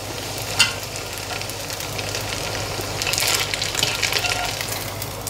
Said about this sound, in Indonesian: Nah, ini sudah jadi, kita goreng.